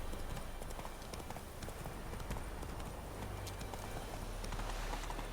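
Hooves of Roach, Geralt's horse in the video game The Witcher 3, in a steady running clip-clop rhythm on the ground, close and continuous over ambient game sound.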